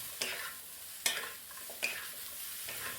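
Shrimp stir-fried in a wok with broccoli, snow peas, carrots, black pepper and salt: three sharp spatula scrapes against the pan over a soft, steady sizzle, with no talking.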